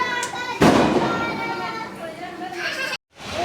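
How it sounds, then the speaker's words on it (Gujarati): Diwali firecrackers and fireworks set off outdoors near a home: one sharp loud bang followed by crackling and fizzing, with children and adults talking and calling out throughout. "તો આપણે ફટાકડા ફોડવા માટે નીચે આવી ગયા છે"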